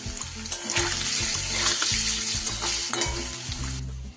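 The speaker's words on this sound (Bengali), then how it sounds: "খুব বেশি ভাজবো না আমি, লাল করে বেশি ভাজলে কিন্তু পনির শক্ত হয়ে যাবে।" Paneer frying in a wok gives a steady close sizzle with occasional clatters and scrapes, fading near the end as the heat drops.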